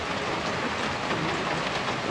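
Steady rain falls on a house work site under a bright, sunny sky, a dense, even hiss of drops throughout with no voices.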